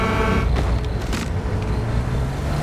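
A vehicle engine drones on the Metropolis level of the Halo 2 video game, a steady, fairly loud motor hum with rising and falling engine tones and no talk over it.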